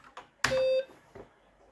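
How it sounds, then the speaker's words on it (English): A BBC Micro computer gives one short, clear electronic beep, a single steady tone lasting about a third of a second. Faint clicks come just before it and soft room noise follows. "Learning something as simple as how to make a beep."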